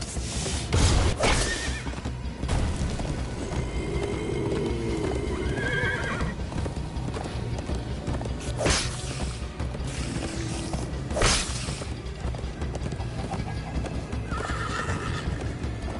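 Minecraft horse galloping and neighing amid game sounds, with several sharp whinnies standing out over a steady bed of hoofbeats and clattering, creaking mechanisms throughout.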